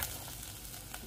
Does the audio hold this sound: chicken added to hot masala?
yes